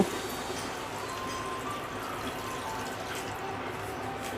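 Water pours steadily into a cooking pot holding ash gourd pieces for a katla fish broth, a continuous close splashing rush at low volume.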